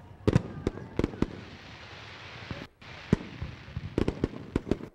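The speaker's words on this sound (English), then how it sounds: "World fireworks lighting up the skies we do every week here." Fireworks burst over a speedway in a series of sharp, irregular bangs and crackles, some in quick clusters, loud against a steady outdoor crowd murmur.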